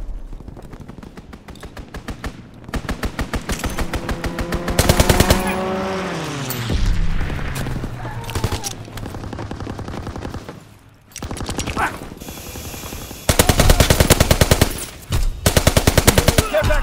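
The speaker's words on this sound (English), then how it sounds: "Strafing run inbound." Rapid machine-gun bursts from a strafing run in Call of Duty: WWII rattle loudly in repeated volleys, with a diving aircraft engine sweep and further heavy gunfire.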